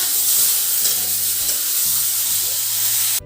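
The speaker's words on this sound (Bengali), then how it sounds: "দিয়ে আমি আরেকটু নেড়ে চেড়ে নেবো।" Green chilies, tomatoes and ginger sizzle steadily in a hot pan while being stirred, a continuous close frying hiss with a few soft utensil scrapes, cutting off abruptly at the end.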